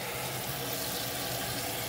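Water runs from a newly installed kitchen faucet with a pull-out sprayer head, producing a steady, even hiss that stays at a constant level throughout, with no talking.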